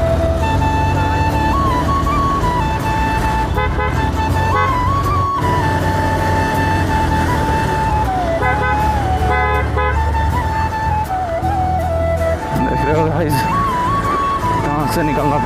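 Traffic is jammed on the road, and car horns and engine noise run continuously under loud music, with short horn toots breaking through here and there.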